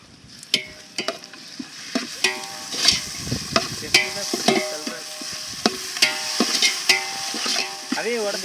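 Ginger and garlic fry for Dindigul biryani while a utensil scrapes and stirs through them in a hot pan, giving repeated loud clattering strokes over a steady sizzle, with brief voices in the background.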